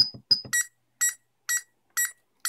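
An Arduino Uno burglar alarm emits a couple of short electronic chirps and keypad-like blips, then settles into regular, evenly spaced beeps about twice per second, close and clear.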